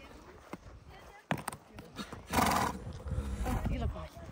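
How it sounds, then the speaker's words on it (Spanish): A horse snorts and whinnies in a short loud burst partway through, amid voices and outdoor handling noise. "Tranquilo, caballo, tranquilo."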